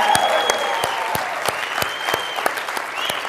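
Audience applause during a leadership self-affirmation exercise at a motivational seminar: a steady wash of clapping from a crowd, with sharp individual claps standing out regularly through it and a raised voice or cheer cutting in briefly.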